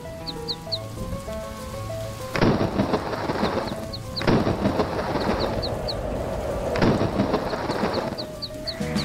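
A cartoon thunderstorm: loud thunder claps crash in repeatedly over steady falling rain, with cartoonish chirping sound effects and a musical backdrop, no voices.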